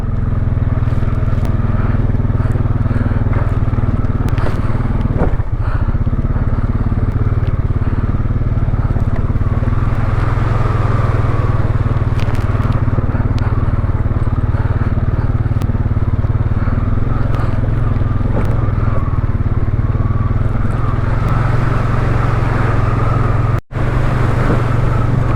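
A motorcycle rides steadily along a mossy, overgrown trail, its engine droning loud and continuous throughout with slight rises in revs, and a brief dropout near the end.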